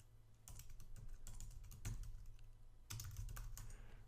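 Typing on a computer keyboard while entering commands in a Linux terminal, a steady run of close, quiet key clicks with a short pause near the middle before the tapping resumes.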